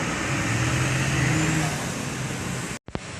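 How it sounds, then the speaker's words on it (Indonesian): A Harapan Jaya Hino RN 285 intercity bus passes along a road with a steady, loud engine and tyre roar that fades slightly, then a sharp break and a brief thump at the end. "Harapan Jaya Hino RN 285 ya teman-teman."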